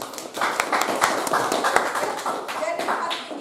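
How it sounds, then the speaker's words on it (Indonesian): Students clap in a classroom after a group presentation, a brief scattered round of hand claps mixed with a teacher's voice and room chatter. "tepuk tangan untuk kelompok 6."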